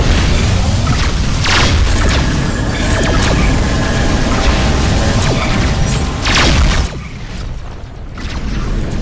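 Incoming missiles explode around a ship in the space combat game Rebel Galaxy, a loud, dense rumble of booms and crashes with several sharper blasts, easing off near the end.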